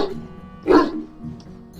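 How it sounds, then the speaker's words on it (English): A dog in a video game gives a single short, close bark over soft ambient game sound. "Hey, he's a good dog."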